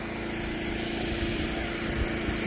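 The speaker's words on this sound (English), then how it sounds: "I'm going to get up here with the Leister welder and" A Leister hot air welder running on a TPO roof seam of a barn-style roof, giving a steady, loud, continuous motor-and-blower drone with a whirring, engine-like tone.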